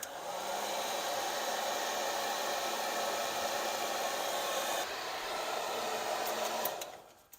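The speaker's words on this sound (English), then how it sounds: "I'm going to try and heat this up to make it a little more flexible, see if we can get it over that larger fitting there" A heat gun blows hot air onto a heater return hose on a 2005 Dodge Ram with a 5.9 Cummins, softening it to fit over a larger fitting; a steady close whooshing roar runs for about seven seconds, then cuts off.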